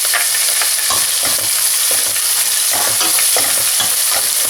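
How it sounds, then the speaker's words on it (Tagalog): Garlic and onion sizzle and crackle steadily in hot oil in a pan, loud and close, with occasional stirring scrapes and no voices. "So, ganitong mainit na ang ating oil, ilagay na natin yung garlic"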